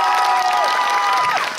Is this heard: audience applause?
yes